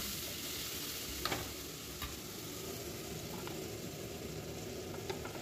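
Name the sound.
chopped onions frying in oil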